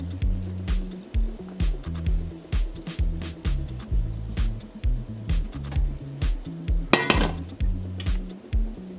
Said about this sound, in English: So using the same pan, I'm going to saute the seasoning now.